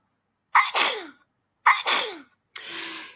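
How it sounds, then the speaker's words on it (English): A tiny mouse sneezing hard, three sharp sneezes close up, the first two with a quick breathy intake before each burst, the last a longer, softer one. "He sneezed so hard he fell right out of bed."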